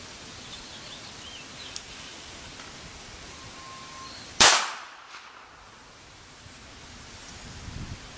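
A single sharp shot from a Smith and Wesson Model 36 revolver fired double action outdoors, loud and close, with a quick decaying echo against quiet breezy background noise.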